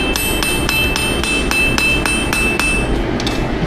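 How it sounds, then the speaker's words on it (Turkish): Small hammer striking an Ottoman kilij sword blade during forging, giving a steady series of light, ringing metallic blows at close range, roughly three or four per second, over a constant low workshop hum. "Sadece yumuşak, küçük bir çekiç ve yumuşak çekiş darbeleri."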